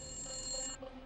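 A telephone rings indoors in a Telugu TV serial scene, a faint electronic ringtone with a sustained high tone that cuts off just before the end, with no one speaking.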